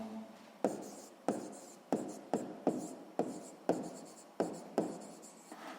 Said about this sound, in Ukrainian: Гаразд, записуємо тоді відповідь.